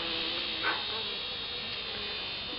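Honeybees buzzing around an open beehive, a steady faint drone with a brief closer buzz as one passes near, no talking.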